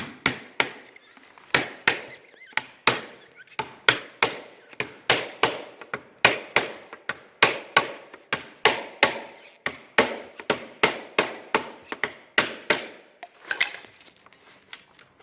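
Repeated sharp knocks of a plastic scraper against the wooden trim of a VW T3 Vanagon sliding window, a steady run of close, loud taps at about two per second with no talking.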